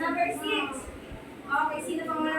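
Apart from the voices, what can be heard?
No distinct noise like a dog, phone or traffic.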